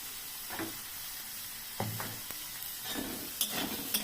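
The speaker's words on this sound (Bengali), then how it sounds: "এবার আমি আলুগুলোকে ভালো করে লাল লাল করে ভেজে উঠিয়ে নেব।" Quiet, steady hiss of potato pieces frying in oil, with occasional low clunks and scrapes of stirring in the pan.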